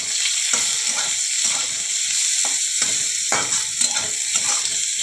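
Chopped onions sizzling steadily in hot mustard oil with nigella seeds, a loud, continuous frying hiss close by, broken by irregular scraping and clicking as a spatula stirs the pan.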